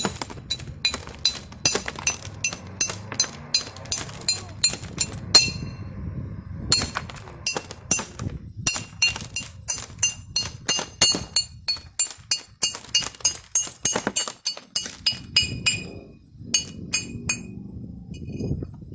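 Glass knapping on an old bottle bottom: a long series of sharp, bright clinks and chipping ticks, struck singly and in quick runs, close and clear, with brief pauses between bursts and no speech.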